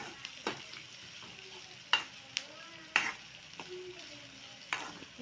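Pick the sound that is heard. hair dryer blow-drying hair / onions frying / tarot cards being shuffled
onions frying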